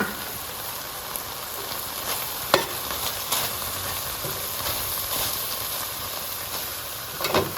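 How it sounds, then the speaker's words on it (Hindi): Chicken and finely chopped vegetables cooking in a pan for spring rolls give off a soft, continuous hissing sizzle with occasional faint clicks of a spoon, and no voices. "और अब इन सब्जियों के साथ चिकन को बहुत अच्छे से पका लेंगे।"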